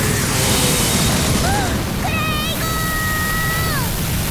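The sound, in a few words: explosion in Fate/Grand Order Noble Phantasm animation, video game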